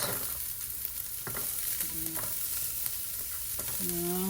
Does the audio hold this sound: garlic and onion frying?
yes